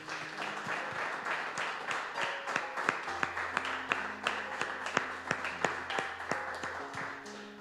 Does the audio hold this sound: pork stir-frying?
no